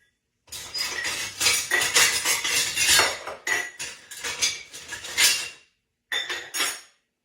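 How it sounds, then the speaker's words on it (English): Metal cutlery clatters and jingles in a kitchen drawer while a small measuring spoon is dug out, a dense run of close rattling with brief pauses, then one last burst. "So let me get that little measuring spoon out."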